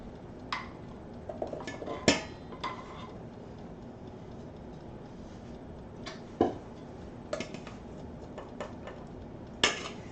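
A metal spoon scrapes and clinks against a bowl while mofongo is served out in a home kitchen, a few sharp irregular clanks amid quiet handling noise.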